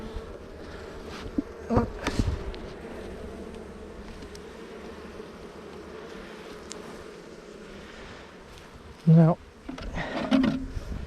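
Honeybees buzz around an open WBC hive during an inspection on a hot day, a steady close hum with a few louder passes near the microphone and someone talking over it.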